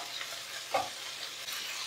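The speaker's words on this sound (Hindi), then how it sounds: "अब हम बॉईल किए हुए गोभी के डंठल डाल देंगे," Boiled cauliflower stalks stirred into a frying, oil-separated masala in a pan, a steady close sizzle with one brief louder scrape of the spoon partway through.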